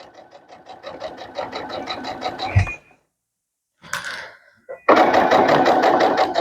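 Sewing machine stitching fabric for a simple potholder, a steady rapid mechanical whir in two runs separated by a pause with a brief thump and click, fairly loud and close.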